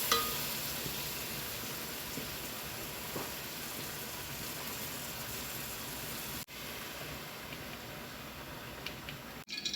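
Chicken pieces fry in a pan with oil, giving a steady, close hiss and crackle that runs unbroken throughout, with a couple of brief clunks.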